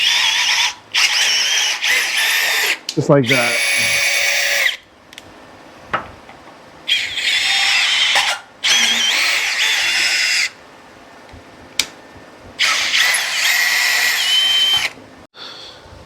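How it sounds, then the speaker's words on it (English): A low-speed drill turning a tap to thread a hole for a Chevy S10 crew cab chassis build, in several loud, whining bursts of a few seconds each with brief pauses between them, close up, with a few words spoken. "If you put your drill on low and you lock the tap in your chuck, you should be able to run the drill through it."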